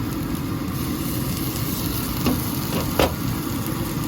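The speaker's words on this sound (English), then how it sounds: "So saute it" Tomatoes for egg curry sauté in a pan with a steady, close sizzle and a couple of brief stirring scrapes, with no voices.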